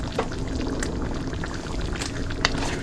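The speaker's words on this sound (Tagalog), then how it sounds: "Lagay pa ng tubig yan." Water is poured into a cooking pan over a sizzling, bubbling simmer, a steady wet splashing with a few sharper clinks and spatters close by.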